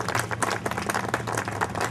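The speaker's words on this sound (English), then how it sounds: "How about a nice welcome and round of applause for" Dense, steady clapping from a crowd, sustained throughout at moderate loudness with no talking.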